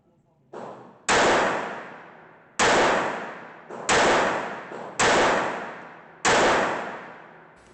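Jennings J-22 .22 pistol firing from a second magazine on a tabletop, about six sharp loud shots at irregular spacing, each with a decaying ringing tail, a couple of faint clicks between them.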